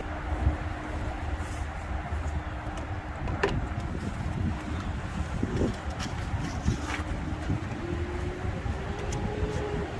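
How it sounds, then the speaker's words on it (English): Steady outdoor wind roars and rumbles continuously beside a concrete plant at a lawn-mowing job, loud and close to the microphone with no pauses. "the wind's always just blowing left to right here"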